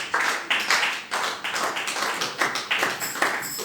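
A church congregation claps in a steady rhythm during Sunday prayer, with loud, evenly spaced claps roughly twice per second throughout.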